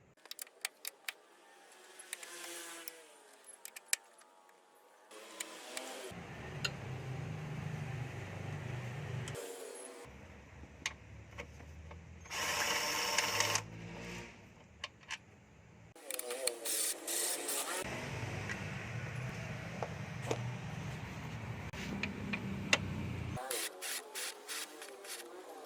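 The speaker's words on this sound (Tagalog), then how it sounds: "Next to remove is these 4 bolts here at the main engine support." Bolts are removed from the main engine support of a Peugeot 307 with a ratchet, giving repeated clicking, metallic rubbing and bursts of rapid ratcheting, with quieter pauses between.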